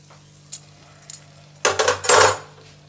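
Paneer jalebis fry in hot oil under a steady low sizzle, broken by a couple of light clinks and then a loud burst of metal spoon or pan clatter and stirring near the end.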